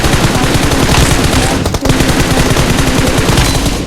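Loud, dense automatic gunfire from the BGMI mobile battle royale game, with rapid bursts that continue almost without a break and one short pause partway through.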